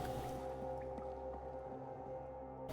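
Water dripping inside an underground level of the video game Below, soft irregular drips and squishy plops over a sustained low droning ambience, fairly quiet.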